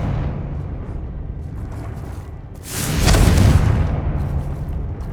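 Confringo fire spell bursting in the game Hogwarts Legacy, a rumbling explosion swelling from a low background hum and slowly fading over a couple of seconds.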